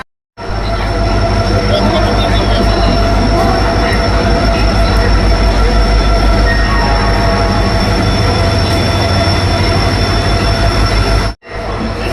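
A loud, steady rumble of the Howrah–Bangalore Duranto Express arriving at a station platform, with squealing wheels and metallic screeches, continuous throughout before cutting off briefly near the end.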